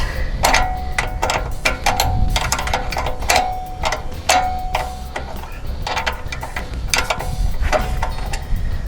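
Wrench work loosening 16 mm nuts on a modified KT196 go kart: close, sharp metallic clicks and ratcheting taps in irregular bursts over a steady low background.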